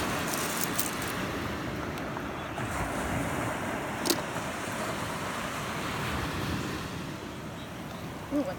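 Ocean surf washing onto a shell-covered Sanibel beach at night, a steady soft roar of breaking waves mixed with wind buffeting the microphone, fairly faint and continuous.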